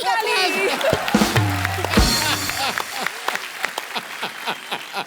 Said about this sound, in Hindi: ओ गुरु, ठोको ताली